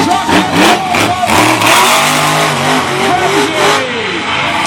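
Monster truck engine at a Royal Melbourne Show event, revving and roaring in loud surges across the whole stretch, with pitch rising and falling as it launches over jumps, crowd and announcer noise underneath.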